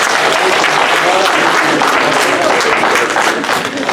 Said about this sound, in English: Another round of applause for our Sheikh.